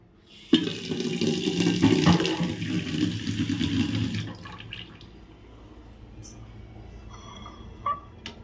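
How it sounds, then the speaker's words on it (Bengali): A water tap runs into empty water bottles in a home, a loud steady rushing pour for several seconds that cuts off, leaving faint drips and small household knocks. "এই যে জলের বোতলগুলো খালি ছিল সেইগুলোকে ভরে নিলাম"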